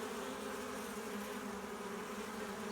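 Honey bees fly into a hive, a dense steady buzzing hum of many wings close by and unbroken throughout, with no voices.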